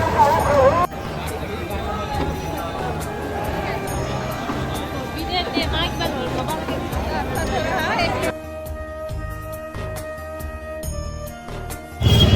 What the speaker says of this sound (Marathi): ही गर्दी अशी आहे तुम्ही बघू शकता गर्दी केवढी आहे